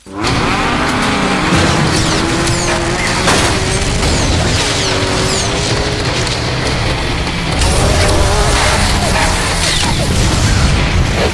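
Car combat and racing in the shooter Rage: loud continuous engine roar with crashing impacts, booms and debris, dense and unbroken throughout, with faint voices mixed in.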